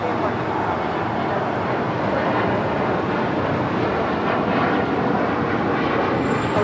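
A Delta heavy jet takes off from runway 25 right at LAX, its engines a loud, steady broadband roar that holds throughout at close range.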